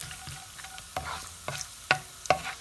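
Dry fruits frying in hot ghee in a pan with a steady sizzle, broken by several sharp clicks and scrapes of a spoon stirring against the pan.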